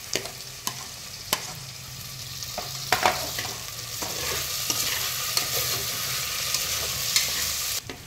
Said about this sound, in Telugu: చివరికి టమాటా వేసుకొని ఇక ఏగిపోయే వరకు కొంచెం లైట్గా వేయితే సరిపోతుంది.